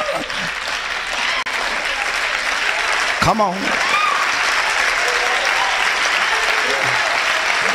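A church congregation claps loudly and steadily throughout, with a brief shout and a preacher's voice cutting in over the applause.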